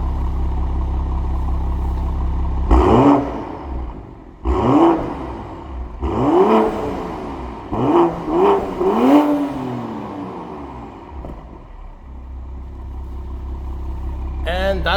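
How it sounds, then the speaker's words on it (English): A 2026 BMW M340i in Sport Plus, warmed up, gives several sharp throttle blips: four or five close revs rising and falling over a steady idle, then settling back to a low hum, with no voices over it. "we'll do a couple of exhaust notes just for you, David."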